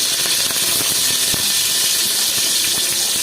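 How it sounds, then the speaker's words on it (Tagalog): Garlic sizzles in hot oil in a pan, a steady bright hiss with scattered crackles and pops running throughout, close and fairly loud with no talking. "magigisa na tayo ng bawang."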